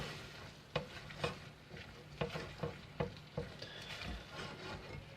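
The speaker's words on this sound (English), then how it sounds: "We stir the black pepper in." Black pepper is stirred into cured meats in a pan, with soft scraping strokes in an irregular rhythm over a faint sizzle, quiet and close.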